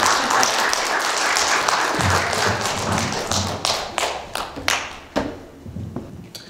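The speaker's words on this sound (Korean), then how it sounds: "다시 한번 큰 박수로." Church congregation applauding to welcome a visiting missionary, a dense wash of clapping that breaks into separate, sharp claps and thumps tapering off near the end.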